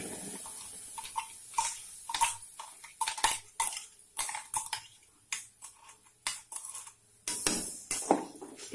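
Gravy with mustard seeds, curry leaves and turmeric is stirred in a cooking pot, giving repeated close metallic clinks and scrapes of the spoon against the pot in a quick, uneven rhythm.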